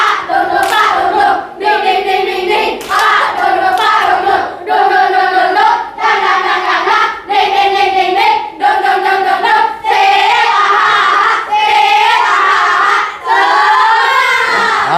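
Children do the tepuk semangat rhythmic clapping chant in a classroom at the close of a lesson, loud shouted group voices in repeated bursts with short pauses between them, their claps and cries running steadily throughout.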